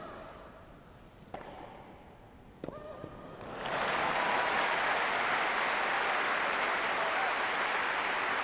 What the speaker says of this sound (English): It's the loudest applause of the match.